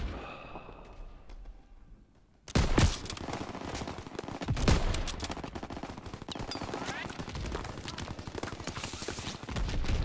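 Sniper rifle shots ring out in the Call of Duty WWII D-Day campaign on Xbox One, loud gunfire starting suddenly after a quiet lead-in, amid a dense battle din with other weapons firing throughout.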